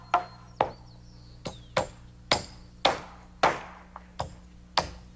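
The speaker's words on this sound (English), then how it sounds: "nails his end to a ceiling joist, and the same on the other side" Hammer nailing a roof rafter to a ceiling joist during roof framing: about ten sharp, separate strikes in an uneven rhythm, loud and close, with no talk.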